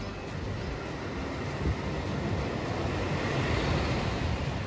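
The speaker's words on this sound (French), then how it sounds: "La cassette des vagues." A steady, continuous wash of ocean surf from Gaspé, played from a cassette, fills the recording, a broad rushing hiss with no voices and little variation in loudness.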